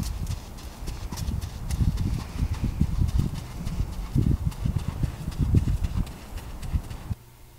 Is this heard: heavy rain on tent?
no